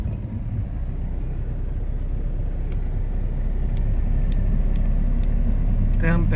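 Tempo goods vehicles rumble along a busy road near the Rajkot Bedi market yard, a steady close low engine and traffic drone, with brief clinks and a short rising whine near the end.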